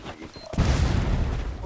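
A bomb goes off in Free Fire ranked Clash Squad gameplay, a sudden loud booming blast that rumbles on for over a second, with voices talking over it.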